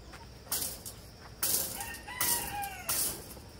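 Chickens cluck and a rooster crows at a backyard coop, the crows rising in several loud bursts close to the listener, with softer clucking filling the gaps between them.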